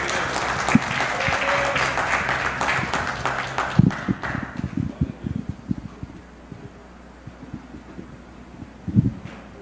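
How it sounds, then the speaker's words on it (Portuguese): A church congregation applauds during a worship service. The loud, dense clapping dies away after about four seconds, followed by scattered shuffling and knocks as people sit down. "Aplauda ao Senhor e pode se assentar."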